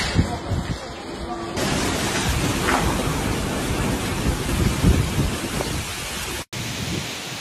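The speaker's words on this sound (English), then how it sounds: "a powerful storm struck the city of Split, Croatia, far stronger than usual for the region" A powerful thunderstorm over Split, Croatia, in July 2025 brings a dense, loud wash of heavy rain with low rumbling, preceded by a brief stretch of other sound and cut off near the end.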